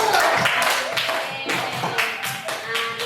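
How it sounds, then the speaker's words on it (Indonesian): Students in a classroom clap together in a short, loud burst of applause, fast overlapping claps close at hand, with a few voices mixed in. "Oke, beri aplaus dulu."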